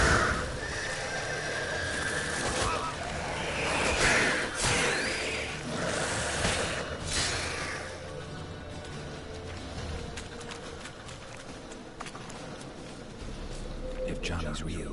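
A horse in The Witcher 3 lets out loud, shrill whinnies, with hoof clip-clops and game ambience around it while someone talks over the action.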